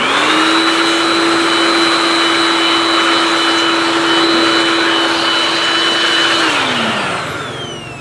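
An air blower whooshes steadily and loudly while dust is blown out of an electric fan that will not spin during a repair, keeping a constant high whine until it winds down near the end.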